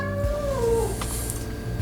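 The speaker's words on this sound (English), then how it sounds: "Cat's moaning at something." A house cat lets out a drawn-out, wavering meow that rises and falls, close by and fairly loud, with no talking over it.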